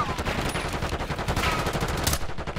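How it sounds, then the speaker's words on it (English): Rapid automatic gunfire in a video game clatters in a dense, loud burst of evenly spaced shots that runs nearly unbroken for a few seconds. "Where are you two shooting?"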